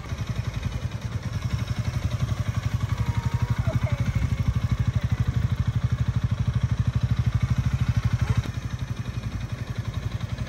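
Motorcycle ridden slowly by a beginner practising clutch control, its engine putting out a steady, close, low rhythmic chug throughout with a brief clatter near the end.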